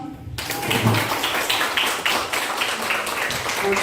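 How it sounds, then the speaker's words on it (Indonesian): An audience in an Indonesian teacher training session claps together, a steady patter of many hands at moderate distance lasting a few seconds. "minta tepuk tangannya untuk saya dong"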